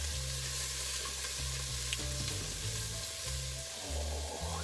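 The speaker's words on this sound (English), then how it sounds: "now we're going to add the garlic and ginger. I'm gonna stir that around" Garlic and ginger sizzle in a pot for a vegan coconut lentil soup, a constant crackling fry broken by scraping stirring strokes over a low hum, close and alone.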